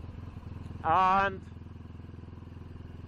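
A BSA Goldstar motorcycle engine idles with a low, even thump, then gives one short, sharp rev before settling back to idle, while a voice briefly speaks.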